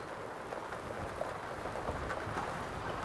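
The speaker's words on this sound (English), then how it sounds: "now a good hailstorm and rainstorm in the evening" Steady rain pours during an evening hail and rainstorm, a dense, even hiss with faint low rumbles that could be distant thunder.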